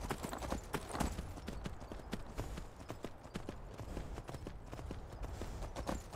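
Rapid, rhythmic hoofbeats of a galloping horse in Skyrim VR, continuous and fairly close, with no talking.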